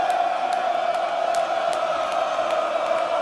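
Wrestling arena crowd at a Ring of Honor show roaring steadily after a board under the ring is cracked, a dense sustained wall of shouting with scattered whoops and sharp accents poking through.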